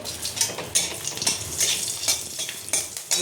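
Whole spices, bay leaf, a dried red chilli and a green chilli frying in hot oil for a Bengali katla fish malai curry, a steady close sizzle with sharp crackles and spatters and a few utensil scrapes, no voices.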